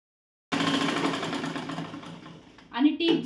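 Sewing machine stitching the sleeve of a gown runs in a steady fast whirring buzz that starts abruptly, slows slightly, then surges again near the end, with a voice speaking faintly underneath.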